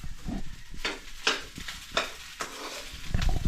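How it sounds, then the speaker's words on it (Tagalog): Food fries in a pan in a home kitchen, a soft sizzle broken by several short stirring or scraping strokes at close range, with no talk. "Tapos nagpiprito."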